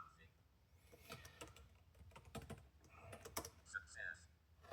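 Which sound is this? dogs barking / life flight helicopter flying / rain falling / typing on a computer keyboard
typing on a computer keyboard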